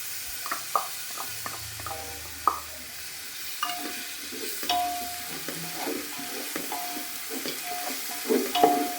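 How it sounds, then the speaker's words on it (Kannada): Onions frying in a pan with green chili paste for coconut chicken biryani, scattered clinks and scrapes of stirring over a faint steady sizzle, no talking. "ಚೆನ್ನಾಗಿ ಫ್ರೈ ಆಗಬೇಕು ಈರುಳ್ಳಿ ಎಲ್ಲ"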